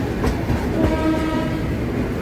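The 14120 Dehradun–Kathgodam Express rolls past close by with a loud, continuous rumble of wheels on rails and a steady mechanical roar, and no voices.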